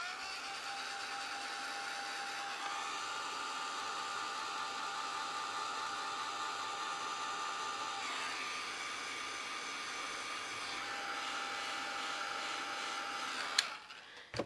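A hair dryer blows steadily and close for about fourteen seconds, drying the sealed edge of a glitter-filled shadow box; a constant whirring hiss with a steady motor tone, then a brief click near the end as it shuts off.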